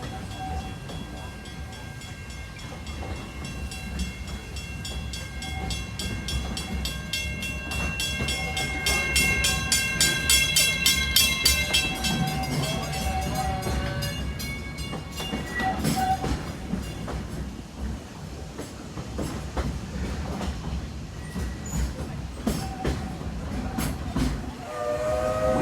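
Walt Disney World Railroad steam train riding from Main Street toward Frontierland, with a steady rolling clatter of wheels on rails and repeated whistle blasts, loud and close throughout.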